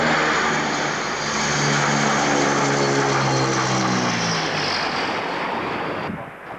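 Engines of a Transall military transport aircraft roar steadily during an airdrop, a loud, close propeller drone whose pitch shifts as the engines throttle up, then fades slightly at the end.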